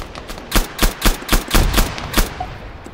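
Gunfire in ARMA 3: a rapid burst of about nine close, loud shots at an even rhythm, each a sharp crack with a short echo, then a quieter tail.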